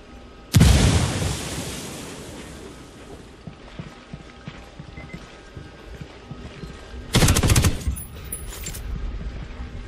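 A frag grenade blast bursts loud and sudden in Ghost Recon Wildlands, followed by scattered gunfire and rattling mechanisms, then a second heavy explosion a few seconds later.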